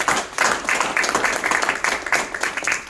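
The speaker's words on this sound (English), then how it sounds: "let's give Barry Brame a round of applause" Board meeting attendees clap for an award winner, a short burst of scattered, fairly close hand claps with an uneven rhythm, lasting a few seconds.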